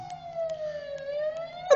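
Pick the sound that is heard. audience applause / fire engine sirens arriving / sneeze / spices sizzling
fire engine sirens arriving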